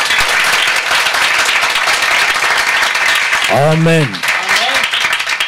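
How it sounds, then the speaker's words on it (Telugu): A church congregation claps happily during a fasting prayer service, a dense steady wash of applause throughout, with a voice calling out briefly over it near the end. "ఒకసారి సంతోషంగా చప్పట్లు కొట్టండి."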